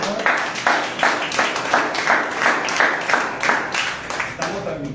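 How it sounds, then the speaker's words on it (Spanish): Church congregation clapping in a steady rhythm during a Sunday worship service, a dense crowd of hands beating repeatedly at moderate loudness for several seconds. "Dale un aplauso al Señor."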